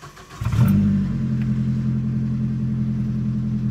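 A car engine cranks and catches after a water pump repair, then settles into a loud, steady, close idle with a deep rumbling hum; no talk.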